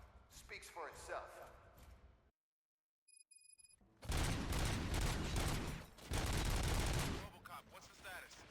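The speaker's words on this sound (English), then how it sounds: "Gunshots? What's going on?" Gunfire in the PS5 video game RoboCop: Rogue City; bursts of loud shots and heavy thumps fill the second half after a moment of near silence, with game voices talking over the opening.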